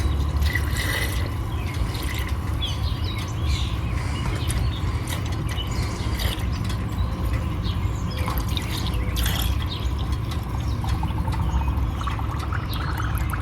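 Coolant pours into the cooling system of a 1989 Corvette, a continuous soft trickle and gurgle with scattered drips and light clinks of the container, steady and fairly close with no talking.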